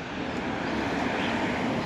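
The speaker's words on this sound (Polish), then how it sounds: "to jest hałas samochodu jadącego" A car driving past close by on a road, a steady broadband rush of tyre and engine noise that swells gently and stays loud for the whole moment.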